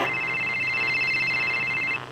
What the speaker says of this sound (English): That's the sound of a normal cell phone call.